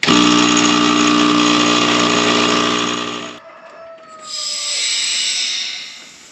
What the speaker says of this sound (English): Got a leak there. This one's pretty bad.